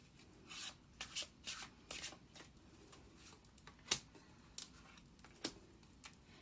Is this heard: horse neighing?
no